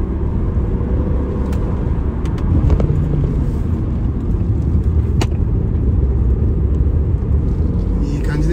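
A fifth-generation Subaru Legacy turbo pulls hard under acceleration, its steady, dense engine rumble running throughout with road and wind noise, while someone talks over it from inside the cabin.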